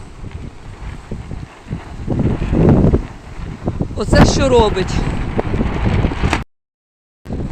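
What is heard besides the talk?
strong storm wind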